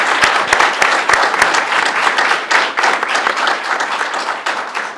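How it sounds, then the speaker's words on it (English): An audience at a city council candidate forum claps in dense, sustained applause, loud and close, with scattered sharper claps standing out from the mass. "give a huge round of applause to our candidates"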